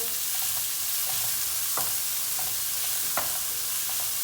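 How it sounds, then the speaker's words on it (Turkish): Plenty of onions fry in oil in a pot with a soft, continuous sizzle and occasional spoon scrapes and taps against the pot, fairly quiet and without talk. "Soğanımızı iyice bir kavuracağız."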